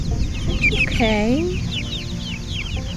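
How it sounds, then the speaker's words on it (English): A chicken clucks in the background of a fall garden, with a drawn-out, wavering squawk midway among softer chirping bird calls, while a voice briefly speaks. "I have a chicken in the background."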